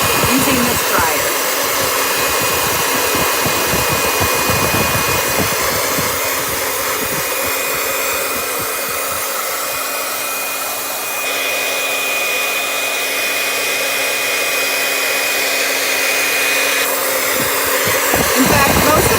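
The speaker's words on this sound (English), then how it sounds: "using this dryer." A hair dryer blows steadily on a kitchen towel, a loud continuous whooshing hum that holds for the whole stretch with only slight shifts in pitch.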